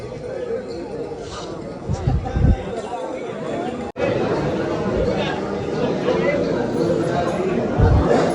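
A large crowd at the Shri Dev Rameshwar temple in Girye during the Mahashivratri festival makes a dense, continuous hubbub of chatter, with one voice talking nearby over it.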